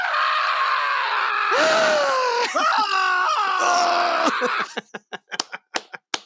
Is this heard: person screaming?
yes